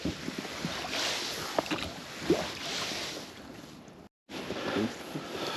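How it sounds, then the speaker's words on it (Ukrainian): A boat out on the water during late-November spinning fishing on first ice, giving a steady washing rumble of water and wind with a few knocks. The sound cuts out briefly near the end and then returns. No one speaks. "той човен, то Назар з Юрком."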